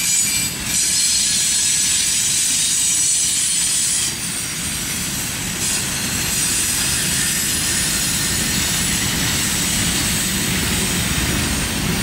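CSX freight train with its lead locomotives approaching, a steady loud rumble of rolling wheels and rail noise with faint squealing, sustained throughout and unaccompanied by talk.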